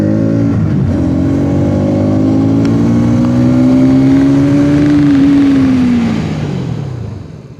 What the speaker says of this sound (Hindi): अब दोनों जो ब्रेक है साइमल्टेनियस उसको अप्लाई करके देखते हैं कि क्या रिजल्ट आता है 60 km/h की स्पीड पर